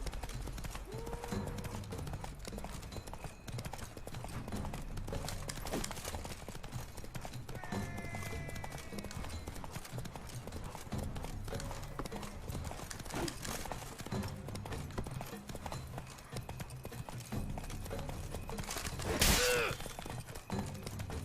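Horse hooves clip-clopping in the game The Witcher 3: Blood and Wine, a continuous rhythmic trot under game ambience, with a whinny and a brief louder crash near the end.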